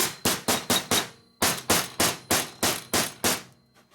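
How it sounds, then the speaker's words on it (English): A steel hammer strikes a Harley Sportster transmission part in sharp, ringing metallic blows. There are about a dozen close, evenly paced hits in two bursts, with a short pause between them. "Just want to use a steel hammer on this one."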